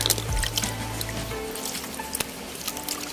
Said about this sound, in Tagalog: Then buhusan natin ng tubig.